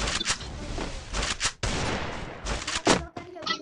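A battle royale game firefight erupts in rapid bursts of close gunfire, dense volleys broken by brief gaps, loud and harsh, with a voice faintly underneath.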